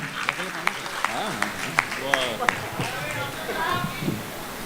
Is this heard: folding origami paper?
no